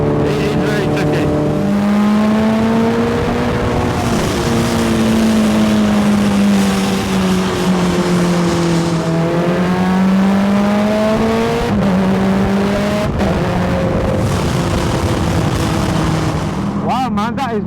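A 297hp 1300cc Hayabusa-engined Exobusa car revving hard while driven, the engine screaming up and down through high revs near 14,000rpm, loud and continuous with brief drops between gear changes.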